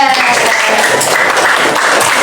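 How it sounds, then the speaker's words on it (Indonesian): Students in a coding and computational thinking lesson clap together for a classmate, a short burst of close, dense applause with some voices underneath. "Tepuk tangan untuk Mas Reza."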